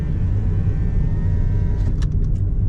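A car drives along Sai Van Lake Street in Macau, its engine and road noise forming a steady close rumble throughout, with a few brief higher-pitched sounds near the end.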